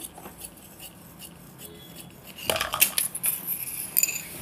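Scissors snip through blouse fabric during tailoring, a couple of quiet metallic cuts near the start followed by sharper, louder clicking and rustling snips close by, with no talking.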